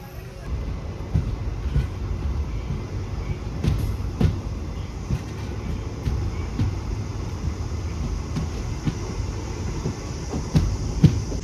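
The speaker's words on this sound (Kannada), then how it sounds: "ಸಿಗ್ನಲ್ ಕೊಟ್ಟೇ ಬಿಟ್ರು ಕಡೂರು ಜಂಕ್ಷನಲ್ಲಿ. ಕಡೂರಿಂದ ಹೊರಡೋ ಸಮಯ ಬಂದೇ ಬಿಡ್ತು." Kuvempu Express train pulling out of Kadur junction, a steady low rumble of wheels and carriages with faint clanks and knocks running throughout.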